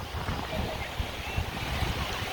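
Steady wind buffeting the microphone outdoors in Canada, a constant low rumble with gusty swells and broadband hiss, loud and close throughout.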